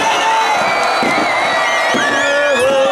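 A large outdoor crowd on the Riva in Split at a rally for Generals Gotovina and Markač screams and cheers loudly and steadily, with whoops and whistles rising above the roar.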